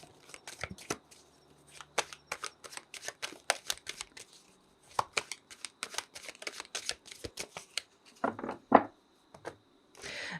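Tarot cards are shuffled by hand in rapid riffling bursts and soft slaps, close and fairly quiet, with short pauses between runs and a denser flurry near the end.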